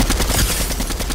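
Rapid automatic gunfire in the Fortnite video game, a dense loud rattle of shots filling the short moment with no voices.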